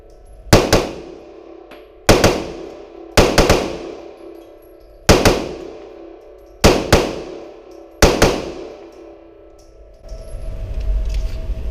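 A Smith & Wesson M&P Compact 3.6 pistol fired outdoors in sharp, loud reports, six shots in uneven pairs and singles with short ringing decays, followed by a rumbling noise.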